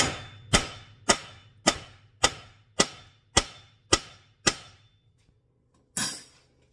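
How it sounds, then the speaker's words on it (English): Loud, close hammer blows on the CV axle of a 1999 Buick Century: eight evenly spaced strikes about half a second apart, a short pause, then one final blow. "we're going to come in here and hit it with a hammer."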